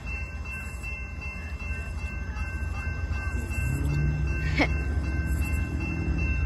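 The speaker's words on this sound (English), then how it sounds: "we have a train coming" A CSX intermodal freight train rumbles steadily nearby at Brunswick, its low roar swelling as it draws closer, with a short sharp squeal or whistle partway through.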